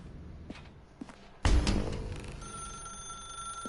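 An old desk telephone rings in a quiet office room in the video game The Stanley Parable, a bright steady bell tone entering after soft footsteps and continuing moderately loud in a close interior.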